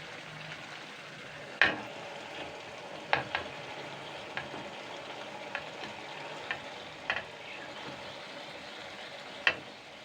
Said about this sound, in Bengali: এইবার আমি এইগুলোকে পুঁই ফলটা মাছের তেলটা ভালো করে একটু ভেজে নেব